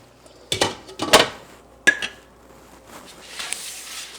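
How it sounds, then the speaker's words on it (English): A utensil stirring chicken filling in a pot on the stove, giving a few sharp metallic clinks and scrapes spaced unevenly, then quieter scraping, close and fairly clear with no talk. "we'll just stir this around, keep it warm on the stove"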